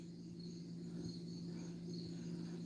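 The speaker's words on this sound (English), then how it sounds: "And you can hear crickets." Crickets chirp steadily at night in a continuous, fairly faint high-pitched trill, with a low steady hum underneath and no talking.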